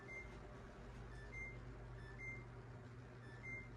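A microwave oven running on defrost hums steadily with a low droning buzz, with faint high ticking tones recurring over the continuous running noise.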